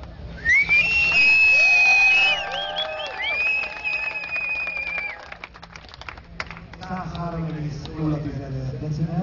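Audience at a motorcycle meet's engine sound contest beside Szelidi-tó lake bursts into loud whistles and cheers, then settles into scattered clapping and crowd chatter with voices mixed in.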